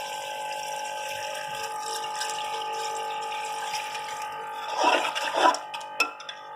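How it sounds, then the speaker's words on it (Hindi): Three glasses of water stream steadily into a cooking pot of pea pulao for several seconds, with a few clanks and splashes near the end. "तीन गिलास पानी इसके अंदर डाल दिया।"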